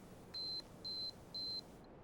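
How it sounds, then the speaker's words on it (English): A Minolta Maxxum 5000 or 7000 film camera's self-timer sounds three evenly spaced, thin electronic beeps, each about a quarter second long, clear and close over faint background hiss. "Now push the shutter release and you have a 10-second countdown to get into the shot"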